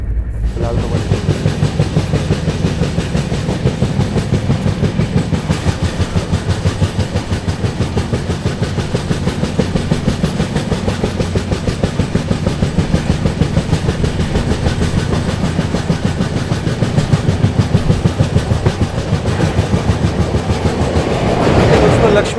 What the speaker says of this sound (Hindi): गाड़ी बढ़िया भाग रही है फ़िलहाल 110